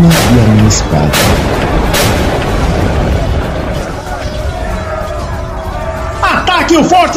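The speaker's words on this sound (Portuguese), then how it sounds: "Os tiros faziam uma sinfonia e enchiam o ar de cheiro e fumaça azul." Battle sound effects at a fort: heavy booming shots and gunfire rumble loudly beneath a narrator's continuous speech, with a fresh burst of blasts near the end.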